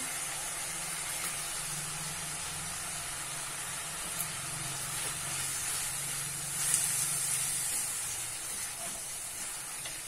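Prawns sauté with onions in a pan, giving a soft, continuous hiss that stays fairly faint and even throughout, with no voices over it.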